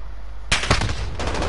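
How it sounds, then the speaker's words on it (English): Sudden burst of gunfire in a multiplayer video game shooter, a loud close volley of rapid shots followed by continued crackling fire, with a second burst near the end. "Oh, where am I getting shot from"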